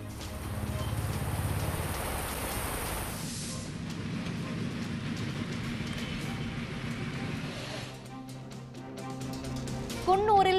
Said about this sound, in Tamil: நாமக்கல், மதுரை உள்ளிட்ட மாவட்டங்களில் பரவலாக கனமழை.